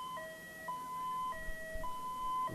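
A fire engine siren at a mall fire in Kolkata wails in a steady two-tone pattern, clear and fairly close, with low rumbling traffic beneath.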